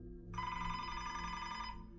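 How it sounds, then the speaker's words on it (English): A telephone ringing as a podcast sound effect, one sustained electronic bell ring of about a second and a half, fairly quiet and heard on its own. "His phone was ringing at his desk,"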